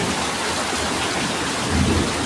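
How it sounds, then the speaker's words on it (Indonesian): Heavy rain with thunder in Pondok Labu: a dense, steady roar of downpour with a low thunder rumble swelling near the end. "cuaca hujan deras disertai petir."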